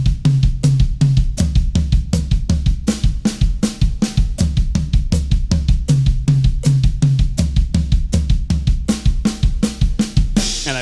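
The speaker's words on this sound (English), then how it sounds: "you're going to put a bass drum in between each note" Drum kit warm-up, played slowly and steadily as four strokes on each drum with a bass drum kick between every note, giving an even alternating pulse of close, punchy hits throughout.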